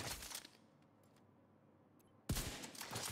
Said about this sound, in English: So I'm going to shoot this enemy and kill him.